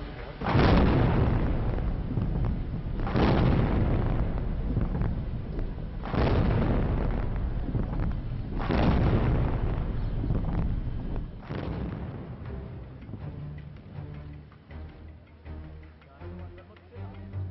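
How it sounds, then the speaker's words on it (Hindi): Five deep, booming cannon blasts of a 21-gun salute fire at steady intervals of about two and a half seconds, each rolling out into a long echo, with crowd noise underneath. "चंद ही मिनट में 21 तोपों की सलामी के बीच राष्ट्रपति ओबामा राष्ट्रपति भवन पहुंचे"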